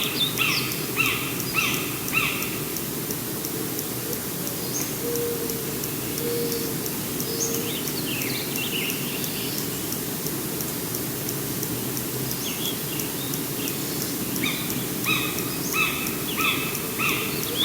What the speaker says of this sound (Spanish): Es sobre aves, así que van a escuchar muchos aves.